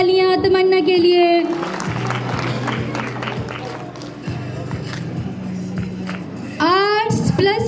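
Audience applause fills the middle of the clip as a prize winner is called to the stage at a school annual function, with someone speaking over a microphone before and after the dense, steady clapping.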